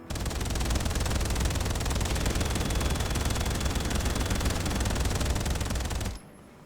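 Sustained minigun fire from a mech in Daemon X Machina Titanic Scion, a dense continuous roar of rapid shots for about six seconds that cuts off abruptly at the end.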